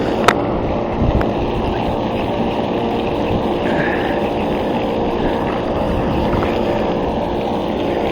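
Strong wind blowing outdoors at a fishing spot, steady loud rumbling buffeting across the microphone for the whole stretch, with a faint brief tap early on and no talk.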